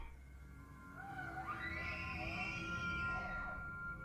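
A bull elk bugles to its cows, a long rising and falling whistling call that climbs high, holds, then drops away, heard at a distance over a low steady rumble of background noise.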